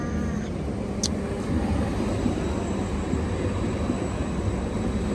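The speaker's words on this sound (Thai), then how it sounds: "นี่เลยรถไฟ" A train rumbles past nearby in Germany, a steady, heavy low roar that holds at an even loudness throughout, with no voices.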